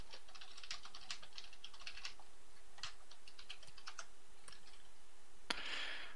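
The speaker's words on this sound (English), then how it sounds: "I was typing" Keys clatter on a computer keyboard in quick, uneven bursts of typing with short pauses, close and fairly clear over a low steady hum, ending with a brighter rustle.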